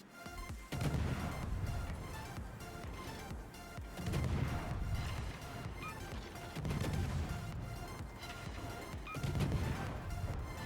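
Secondary guns on a Tier X Japanese destroyer, the Harugumo, fire in World of Warships: a dense, continuous barrage of booms and crashing impacts that swells in rhythmic waves, loud and alone without talk.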